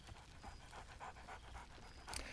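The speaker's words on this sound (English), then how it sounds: "Scratch barks merrily in something like agreement." A small dog companion in the Baldur's Gate 3 video game pants rapidly in short, rhythmic breaths, close and fairly soft, with a brief brighter yap near the end.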